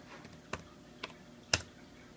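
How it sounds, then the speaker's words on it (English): Keys tapped on a Dell Inspiron 15 laptop keyboard while entering a password, three or four soft, evenly spaced clicks, the last one sharper, in a quiet room. "I'm just going to type in my password here"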